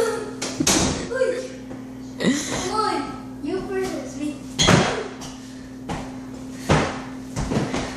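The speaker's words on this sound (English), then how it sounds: "Close the door." A door is pushed shut in a house with a few sharp knocks and thuds, spread across the clip. People talk and squeal loudly around the sounds.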